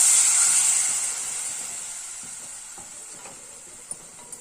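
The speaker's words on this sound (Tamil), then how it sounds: "மெசரிங் கப்பில் 1 கப் அளவு தண்ணி ஊற்றிக்கலாம்." A loud hissing sizzle bursts up as a cup of water hits a hot pressure-cooker pan of sautéed spices for soya chunk gravy, then gradually dies down to a softer simmer with a couple of light clicks.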